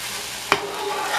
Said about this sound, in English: So I'm going to give it a quick stir